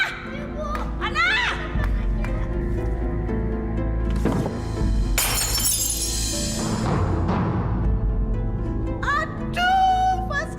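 A flower pot crashes and shatters during a heated domestic drama scene, a loud burst of breaking ceramic amid agitated shouting voices and other scuffling noise.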